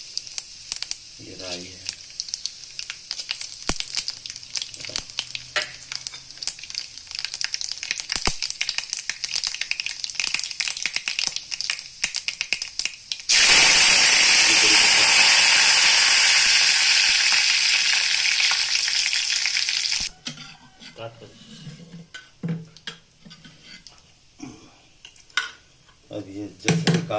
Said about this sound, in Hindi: अब तेल गरम हो चुका है तो जीरा डालते हैं हम लोग। जीरा डाल दिया